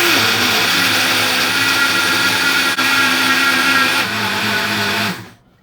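A Ramtons RM/579 blender with a locked plastic jar runs loud and steady at full speed for about five seconds, then winds down and stops.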